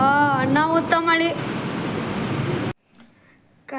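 Heavy rain during a thunderstorm in Hubballi pours as a dense, steady roar, first under a voice, then alone, before cutting off abruptly.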